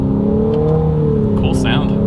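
A 2022 Infiniti QX55 accelerating hard in first gear, its engine droning loud and close with a steady rising tone through the short burst, while a person talks over it.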